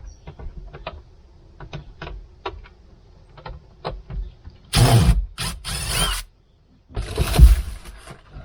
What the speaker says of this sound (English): try to get in there and get that one gas shock off